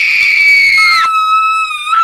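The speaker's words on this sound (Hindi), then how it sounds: "एक फीमेल के चिल्लाने की आवाज।" A woman screams loudly and alone in a shrill, sustained high cry that breaks downward about halfway through, then carries on as a thinner wail to the end.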